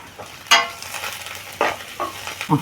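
Bun dosa tempering with chopped coriander leaves frying in a pan, quiet sizzle broken by a few distinct stirring scrapes and clinks spaced irregularly.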